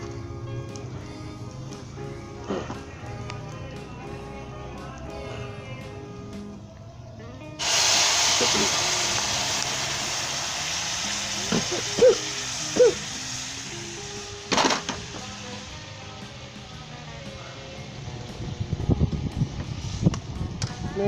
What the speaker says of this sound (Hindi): ये मैंने कड़ी को तड़का लगा दिया